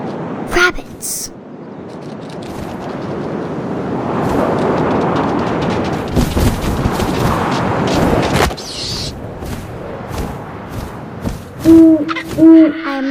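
An owl in the video game What Remains of Edith Finch hoots a few times near the end, after stretches of gusting wind and sharp knocks, with a voice speaking at times.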